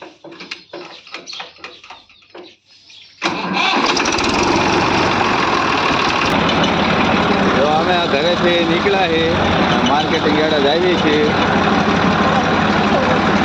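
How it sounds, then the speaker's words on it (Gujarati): A tractor engine starts up and settles into a loud, continuous close rumble that runs to the end, with a person speaking just before it starts and faint bird calls over the engine noise. "જો હવે ટ્રેક્ટર ચાલુ કર્યું છે"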